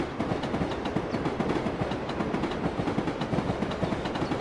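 A 120-carriage train in Train Simulator Classic rolls past with a steady, dense rumble and a rhythmic clickety-clack of wheels over rail joints, close and continuous, with no talk.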